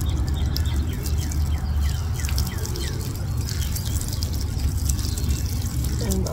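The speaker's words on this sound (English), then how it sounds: "Then I'm gonna water it a little bit," Water trickles and patters gently onto a plant in a home garden bed, a soft continuous drip and splash close by.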